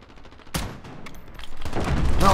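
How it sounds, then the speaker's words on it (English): Gunfire in Call of Duty: Modern Warfare during a 2019 beta Headquarters match, with a sharp close shot followed by a denser burst of rapid firing that grows louder toward the end. "It's a warning shot."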